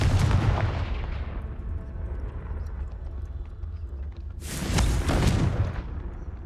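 A Confringo blasting spell in the Hogwarts Legacy video game, heard as a booming explosion at the start that rumbles away, then a second loud blast burst about four seconds later.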